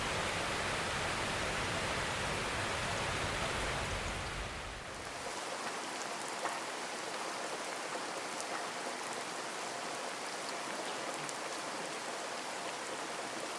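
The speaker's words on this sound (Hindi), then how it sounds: "थोड़ी देर बाद बारिश स्टार्ट हो गई थी और जो भयंकर बारिश लगी थी आप खुद देख लीजिए" Heavy monsoon rain pouring down in India, a dense steady hiss, thicker and rumbling for the first few seconds, then easing slightly into a constant wash of falling water with no voices.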